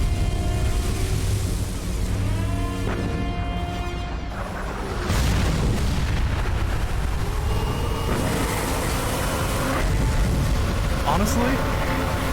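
Cannon fire in the Metal Gear Solid 4 finale lands as deep heavy booms over a constant rumble of game noise, with a loud broadband blast near the middle and more rumbling impacts after it. A voice talks over part of it.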